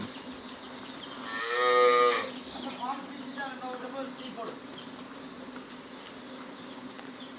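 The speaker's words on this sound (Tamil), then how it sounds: "நிலையிலுள்ள நாட்டு பசுமாடு" A native Indian cow on a traditional cattle farm gives one drawn-out moo, then a second softer lowing call, over steady background buzz of insects and farm ambience.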